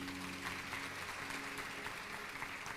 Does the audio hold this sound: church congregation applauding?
yes